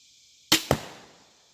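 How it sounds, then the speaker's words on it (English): A crossbow bolt is loosed and strikes a balloon, giving two sharp, loud cracks close together followed by a fading tail, with no talking. "I'll get the purple balloon in the back with this first arrow, and you can hear just how loud it is."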